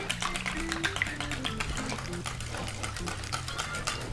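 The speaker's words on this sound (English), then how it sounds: "keep whisking your eggs." Eggs whisked briskly in a large bowl for breakfast burritos, with cottage cheese added: a fast, steady run of light clicking strokes that continues evenly over a low background hum, with no talk.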